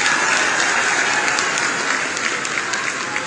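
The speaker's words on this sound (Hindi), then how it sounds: "जोरदार इनके लिए थोड़ा ताली तो बजाइए जोरदार करके।" A large crowd at a BJP political rally for CM Yogi applauds loudly and continuously, dense clapping filling the whole span with a faint voice underneath.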